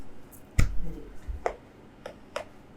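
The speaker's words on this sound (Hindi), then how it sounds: "तो ताली दो फिर" A handful of separate, sharp claps sound one at a time, sparse and fairly faint, from students during a group study session for an economics class.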